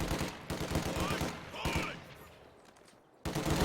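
SMG fire from assault grenadiers in a strategy game, with rapid repeated bursts of shots that pause briefly, return, and break off with a sudden loud burst near the end.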